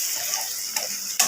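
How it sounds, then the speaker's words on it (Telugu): Okra fries in oil with tempering spices, giving a steady, close sizzle broken by a few soft stirring clicks. "నూనె పోసి తాలింపు దినుసులు వేసేసి మనం బెండకాయలు ఫ్రై లాగా చేస్తున్నాం"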